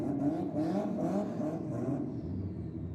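Honda and Fiat compact cars accelerating side by side in a drag race, a steady loud engine roar with rising revs that holds for a few seconds before beginning to fade.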